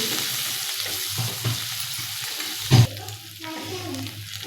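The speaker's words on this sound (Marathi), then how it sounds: "आता हे मसाले हे आपण मिनिटभर चांगले परतून घ्यायचे आहे" Spices and red chilli powder sautéing in a pan, a soft, steady sizzle with a few stirring scrapes and one sharp clink of the spoon against the pan, with no talking.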